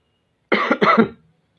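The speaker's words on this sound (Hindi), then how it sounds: "खांसी भी आ गई" A single close cough, two quick bursts run together, then silence.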